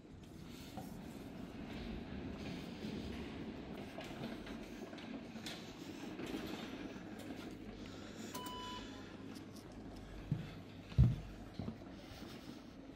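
An NS DDZ double-deck passenger train rolls along the rails at a Dutch station, a steady low rumble with a brief clattering thump near the end, heard from a moderate distance with no talk.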